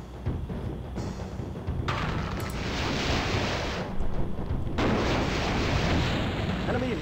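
An enemy vehicle explodes in the MechCommander game, a broad rumbling blast that swells and sustains with heavy crackling debris and a second surge, loud and continuous for several seconds.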